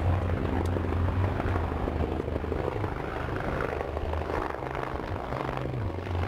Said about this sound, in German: Ein Hubschrauber. Hey, there it is.